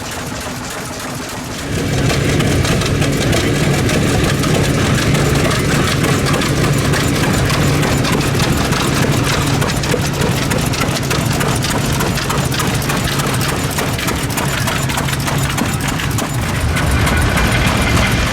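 A 1916 International Harvester Mogul 8-16 tractor engine starts up and runs, a loud, steady chugging drone with a dense rapid rhythm that holds from about two seconds to the end, close and alone without talk.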